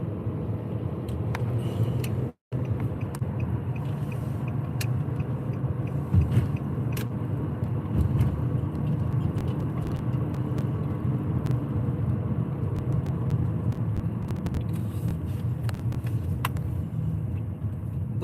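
From inside a car, steady road rumble and tire noise from traffic carry on continuously, with one brief dropout and no talk.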